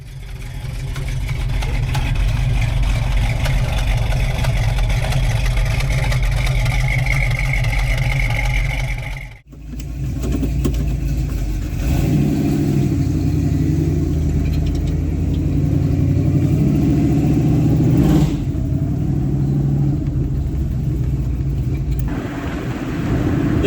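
A convertible car's engine rumbles steadily while driving with the top down, with a brief cut partway through, then a low continuous drone with a rising whine and buffeting air.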